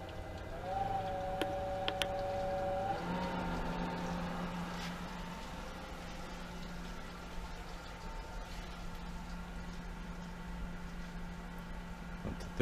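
A Pentair SuperFlo VS or Hayward Super Pump VS variable-speed pool pump runs steadily, with a rising tonal whine as it ramps up to 1500 rpm, then settles into a sustained motor hum over broadband water rush.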